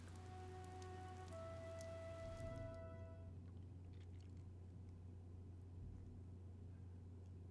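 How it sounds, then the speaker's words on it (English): Rain falls steadily in Fire Emblem: Three Houses, a soft continuous patter over a low hum, with faint tonal game sounds fading in the first few seconds. "This rain threatens a coming storm."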